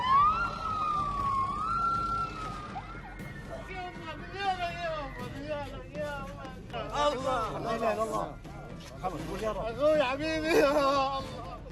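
An air-raid siren in Gaza wails up and down, rising and falling in pitch, with other warbling tones and voices mixed in the background.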